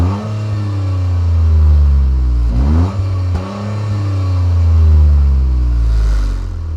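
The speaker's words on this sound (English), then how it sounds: "That is one loud 3-cylinder, that's for sure." A loud 2024 Toyota GR Corolla three-cylinder engine revs hard several times, climbing and dropping in pitch, with a brief gap between bursts and a raspy note from its triple exhaust.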